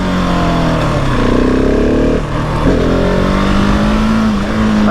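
A 2020 Husqvarna 701 SM motorcycle engine roaring loud and close during a wheelie with traction control on, the pitch climbing, dipping briefly as power cuts, then rising again, with steady wind rush and no voices.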